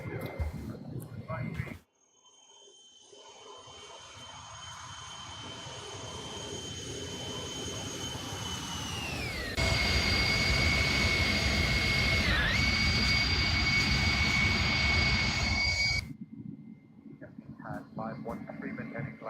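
Jet engines of an A300-600R airliner in the X-Plane 11 simulator roar steadily through climb-out, with a high whine that sweeps down and then holds, loud and continuous, briefly dropping out at the start and near the end.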